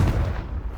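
A Confringo blast spell explodes in Hogwarts Legacy, a single loud, deep booming burst that rumbles and decays over under a second.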